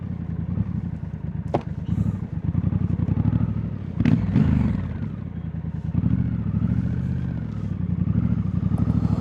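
A Triumph Scrambler 1200 X motorcycle being ridden, its engine droning steadily and close with a couple of brief clattering thumps over the running note, no talk.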